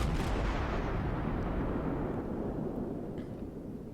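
Naval gunfire from a Cleveland cruiser firing high-explosive shells in World of Warships, a loud, sustained booming blast that rolls and slowly decays over several seconds, with no voices.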